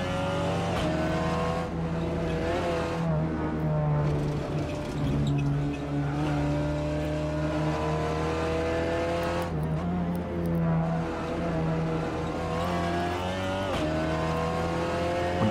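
Seat Leon TCR touring car in Assetto Corsa on the Nordschleife, its engine held at the rev limiter with a steady, loud buzzing drone and faint tire squeal, continuous throughout without talk.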